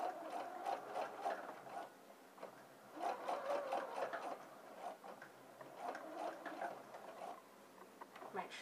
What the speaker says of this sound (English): make sure you go slowly, because you want to make sure you don't stitch anywhere over this seam line